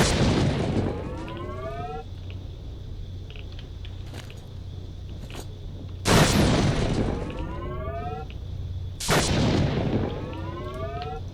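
Three heavy electric-sounding gauss gun shots in S.T.A.L.K.E.R.: Shadow of Chernobyl, each a loud crack followed by a rising whine of charging, spaced a few seconds apart over a low hum.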